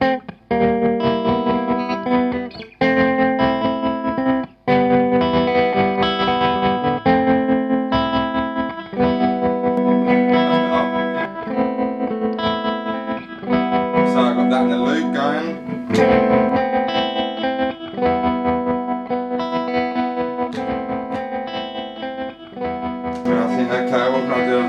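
Electric guitar played through a distortion pedal, with loud sustained chords and riffs, thick and overdriven with a little reverb, carrying on without a break under no talk.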